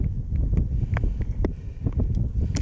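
Steady low wind rumble buffets the microphone throughout beside a dead beehive, with faint rustling and occasional brief higher noises on top.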